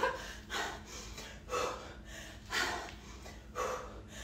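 Heavy, rhythmic breathing during a dumbbell circuit workout, with forceful exhales about once per second across the clip, close and fairly loud, with no talk.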